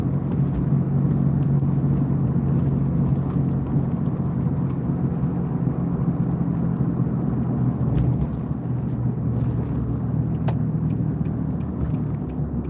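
A car driving on the road, heard from inside as a steady low engine and road rumble that continues throughout, with faint brief knocks near the end.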